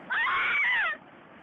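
A 17-year-old girl screams as a tsunami wipes out her village in Japan, one loud, strained cry lasting under a second, caught on a cell phone, with faint noise afterward.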